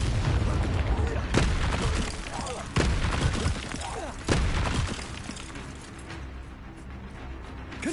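A Bombarda spell cast in Hogwarts Legacy combat goes off as a few loud, booming explosions with sharp onsets, spaced about 1.5 seconds apart over continuous rumbling game noise and a voice.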